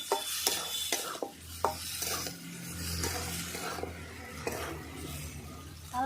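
Spices with chili powder for aloo dum are stirred in a hot pan, with repeated scraping strokes of a spoon over a soft, steady sizzle, close and clear, with no talk.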